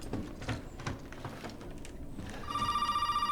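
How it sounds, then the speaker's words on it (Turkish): A telephone rings inside the Resident Evil 7 horror video game, entering partway through as a steady, repeating electronic trill over dim ambient game noise. "Ha telefon. Az önce susmuştu gene çalıyor."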